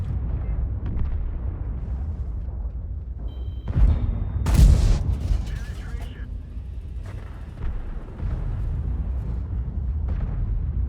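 A heavy tank gun fires once in World of Tanks, a deep booming blast near the middle that stands out over a low rumbling engine bed, with talk running under it.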